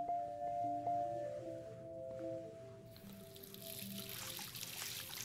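Water runs and trickles from a tap in the video game Life is Strange, dripping and pouring steadily at moderate distance, with a faint musical tone underneath and the flow growing brighter and hissier toward the end.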